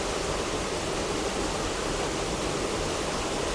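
The main waterfall at Scale Force roars as a steady, broad rushing of falling water, loud and unbroken, with no voices heard.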